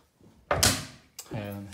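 Storage drawers in an apartment being pulled open, giving a short sliding scrape and a soft thunk, followed by a second lighter knock; close and moderately loud in a quiet room.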